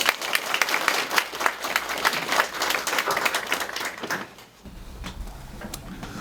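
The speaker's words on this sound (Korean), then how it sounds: "큰 박수 부탁드립니다." An audience at a lecture hall event for a Megastudy academy talk on 2020 university admissions strategy applauds dense and loud for about four seconds, then the clapping thins and fades into a quieter room with low rumble.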